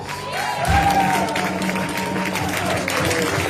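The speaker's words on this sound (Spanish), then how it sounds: "Ahora aplaudimos a los despiertos." A church congregation applauds during a Palm Sunday service, a steady wash of clapping with crowd noise and a sustained musical tone underneath, holding at an even level throughout.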